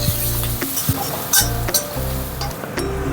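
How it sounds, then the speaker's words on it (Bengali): Onion fries in oil in a pan with a steady close sizzle, punctuated by scraping stirs and a few sharp clinks of a utensil against the pan. "পেঁয়াজটাকে একটু ভেজে নেব।"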